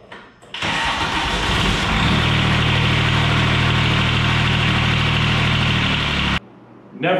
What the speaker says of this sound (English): Never has this tractor ever started with 10 seconds on the glow plugs.